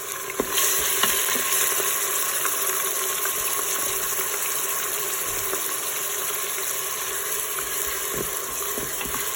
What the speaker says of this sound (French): On commence la recette par mettre 100 ml d'huile. Ensuite, on ajoute les oignons.